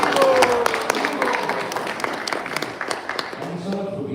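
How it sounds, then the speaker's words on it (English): An audience at an evening spiritual lecture session gives a round of applause, scattered claps building and thinning over a few seconds with some voices and background sound mixed in. "Can we have a big round of applause?"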